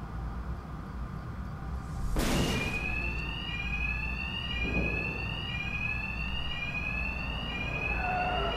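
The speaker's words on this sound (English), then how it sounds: "Two-Face's thugs won't hear me over the alarm." A building alarm blares in Batman: Arkham Knight, a loud repeating electronic tone cycling steadily after a sharp burst of noise, with no speech.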